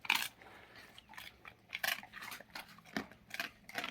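A dog crunching and chewing duck neck bones, with irregular sharp cracks and gnawing bites in an uneven rhythm, close-up and fairly quiet, with no talk over it.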